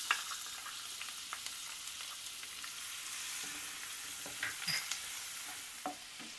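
Chopped onion fries in hot oil with cumin, mustard seeds and asafoetida, giving a steady close sizzle broken by occasional stirring scrapes, with no talking.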